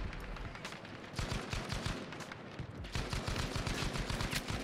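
Rapid automatic gunfire from a video game weapon, sustained bursts of sharp close shots firing in a fast steady rhythm with only a brief pause, loud and alone without talk.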